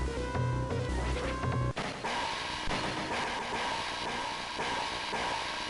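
Crashing sound effects from the Castlevania: Bloodlines video game: a loud, rumbling, clattering barrage like a train, rolling on steadily after a brief musical passage is cut off.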